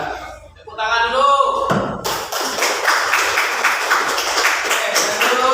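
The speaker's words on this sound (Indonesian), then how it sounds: "Tepuk tangan dulu." A school class claps their hands in a classroom. The clapping starts after a short spoken bit and carries on as a busy, close burst of hand claps that fills the rest of the stretch.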